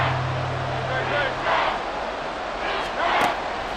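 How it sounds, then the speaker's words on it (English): Stadium crowd in the video game Madden NFL 24 roaring in broad surging swells, rising and falling in a couple of loud waves, with a low hum fading out early. "This crowd doing all they can."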